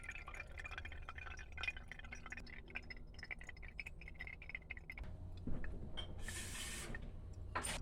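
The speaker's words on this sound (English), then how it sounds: "I'm going to go ahead and run it through my AeroPress just to get all the flower content out of it" Violet tea is pressed through an AeroPress, giving quiet dripping and trickling with small plastic rattles, then a brief hiss and spray of liquid near the end.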